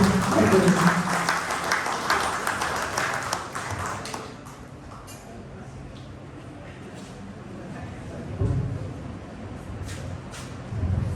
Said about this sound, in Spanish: les digo muchas gracias por esos aplausos